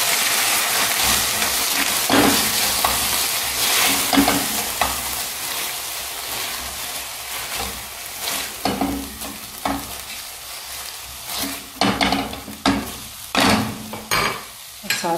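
Chilli paneer and tomato ketchup are stirred in a hot pan, with a steady sizzle and repeated scraping of the spoon against the pan. The sound is close and fairly loud, with no talking.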